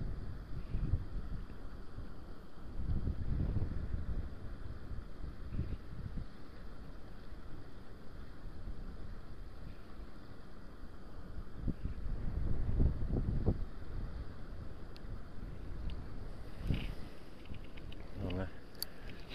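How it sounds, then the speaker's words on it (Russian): Strong wind gusting across an open frozen lake during ice fishing, a steady broadband rumble buffeting the microphone with louder surges, while someone talks intermittently. "Ветрища."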